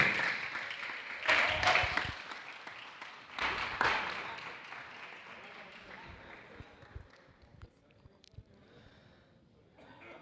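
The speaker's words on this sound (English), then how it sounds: "give a round of applause" Crowd applause at a motor racing endurance race awards ceremony swells in a couple of loud bursts, then fades into scattered clapping that gradually thins out toward the end.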